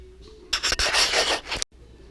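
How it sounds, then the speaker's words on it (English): A $30 Northern Tools chainsaw sharpener grinds a chainsaw chain in one continuous, loud, gritty rasp lasting about a second, then stops abruptly; faint hum before and after. "So I ended up buying this chainsaw sharpener"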